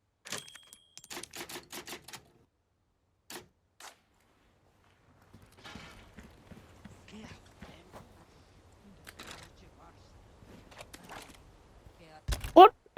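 Typewriter save point in the Resident Evil 4 Remake video game: a burst of rapid mechanical key clacks at the start, then a few isolated strikes, followed by quieter rustling game ambience and a sharp loud hit at the very end.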